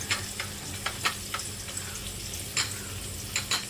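Green chillies fry in hot oil in a pan, giving a steady close sizzle with a few sharp spatters and stirring scrapes, alone and without talk.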